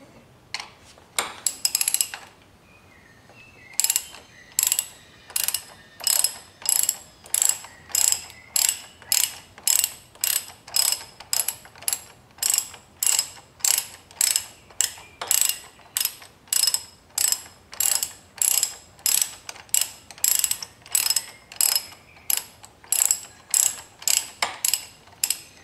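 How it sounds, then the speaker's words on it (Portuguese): Steady ratchet clicking as a nut is loosened on the handlebar risers of a Yamaha XV 250 Virago motorcycle, a long run of quick even strokes, close and fairly loud, with no talk. "Aí soltando a porca e a arruela de um lado. Vamos soltar do outro."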